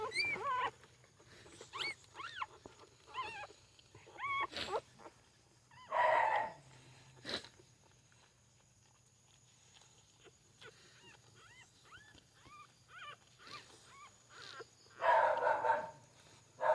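A mother dog with her puppies makes intermittent high, wavering whimpers and whines in short bursts, some louder and closer, separated by quiet gaps.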